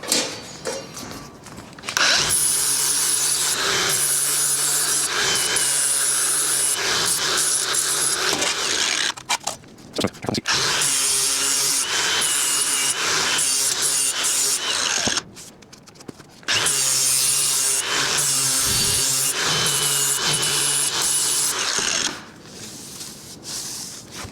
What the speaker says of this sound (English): I'll just take the flap disc and kind of get some of those sharp edges off of there